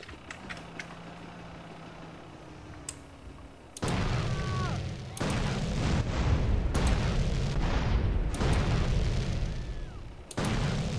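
Gunfire in the video game GTA San Andreas bursts out in loud, sharp volleys that begin partway through and keep repeating with brief gaps, dense and close, after a quieter stretch of ambient game sound.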